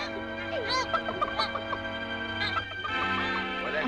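Chickens cluck in a 1939 animated film of Gulliver's Travels, a busy run of short, bright calls layered over a steady musical hum, with no speech alongside.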